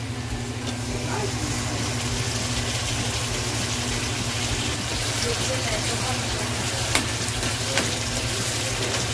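Garlic fries in a pan with a steady, even sizzle that holds throughout, plus a couple of faint clicks, and someone speaks quietly over it.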